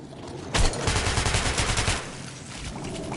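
Sustained automatic gunfire from a weapon in the video game Metro 2033 Redux plays as a loud, rapid burst of shots lasting over a second, then fades into a lingering rumble and echo.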